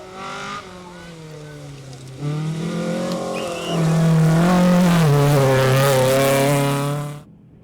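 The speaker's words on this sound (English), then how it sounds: "To the regional classes we go, and Owen Jones puts on a great driving display for the appreciative spectators." Rally cars on a stage at the Algoa National Rally, with engines revving and climbing through the gears, growing louder as a car nears and passes, then cutting off abruptly.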